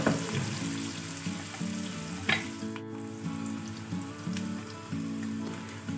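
Chopped onions fry in a pan for an Indian carrot, pea and potato sabzi, giving a steady, soft sizzle with occasional stirring scrapes and bursts of crackle, fairly quiet and with no voices.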